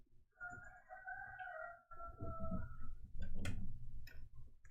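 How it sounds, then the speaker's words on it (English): Roosters crowing close by on a rural homestead, several long drawn-out calls overlapping one another, with no talking. "Can you hear my roosters?"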